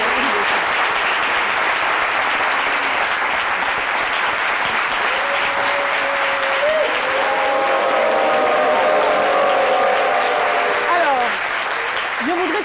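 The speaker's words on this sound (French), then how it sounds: "Je vais demander qu'on se lève pour faire un standing ovation" A large audience at a tribute event gives a sustained standing ovation, dense steady clapping that fills the room throughout, with a voice speaking over the applause near the end.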